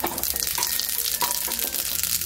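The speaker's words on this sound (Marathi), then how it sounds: "आपलं तेल चांगलं तापलेलं आहे. आपण जिरे मोहरी टाकून घेऊया." Cumin and mustard seeds hit hot oil for tempering a raw tamarind chutney. A brief, dense crackling sizzle with a few small pops is heard close up and alone.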